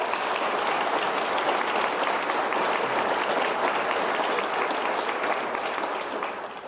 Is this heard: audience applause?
yes